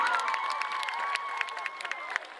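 A concert audience at an outdoor music night in Libreville applauds and cheers, a steady wash of clapping with high shouts and whistles, moderately loud and spread out.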